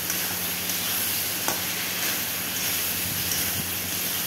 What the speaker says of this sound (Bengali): আলুটা দিয়ে দিয়ে এবার কষিয়ে নেব।